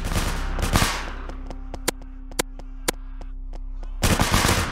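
Gunfire in Project SCP: loud bursts of rapid shots open and close the stretch, with a few sharp single shots spaced out in between over a low steady hum, no voices.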